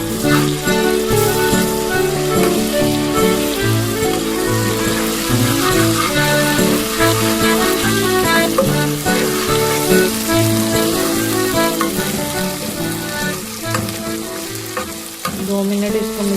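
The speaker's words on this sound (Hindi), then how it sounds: "दो मिनट इसको मज़ीद भूनेंगे।" Onions, ginger, tomato and chickpeas fry in a pan with a steady sizzle and occasional stirring, partly masked by a loud melodic music bed throughout.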